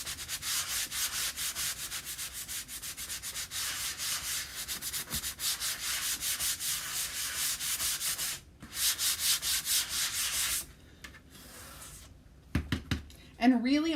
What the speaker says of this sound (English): sanding down some of that chalk paste because I want mine to look a little distressed.